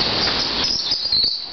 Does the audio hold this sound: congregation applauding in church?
no